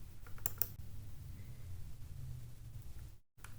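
A computer mouse gives a few quick, crisp clicks close by, faint against a quiet background with light hiss.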